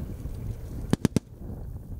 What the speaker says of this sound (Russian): условная операция с пиротехникой, имитированными выстрелами, взрывами и дымовыми завесами